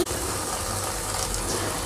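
Water gushes steadily into a pan of smooth cashew curry gravy, a close, continuous pouring rush with no voices over it.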